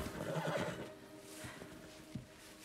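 A horse whinnies loudly and nearby at the start, with a few hoof clops following in a quiet outdoor scene from a medieval adventure setting.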